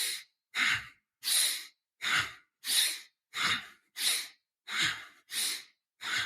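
Forceful breaths in a breathing exercise, done through the nose with the arms dropping to the sides: about nine strong, evenly spaced breathy bursts, loud and close, with short silences between them and no talking.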